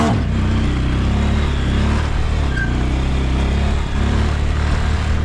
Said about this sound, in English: I'm just going to do a few more second gear wheelies here